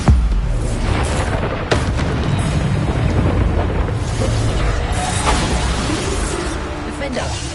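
Bombarda explosion spells going off in the Hogwarts Legacy video game, loud booming blasts and whooshes layered over dense battle noise, with a voice speaking over the chaos.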